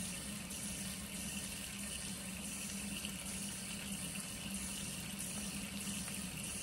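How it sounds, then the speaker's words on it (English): Tap water runs steadily into a sink while hands are rinsed of soap, a continuous even splashing hiss at moderate distance with no talking. "And now I'll put my hands straight down in the water just to get all the soap off."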